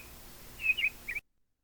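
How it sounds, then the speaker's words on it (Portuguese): Bird song with noise added: a few faint high chirping notes in short clusters over a steady hiss of background noise, then the sound cuts off abruptly into silence. "Esse é o pássaro já com um ruído"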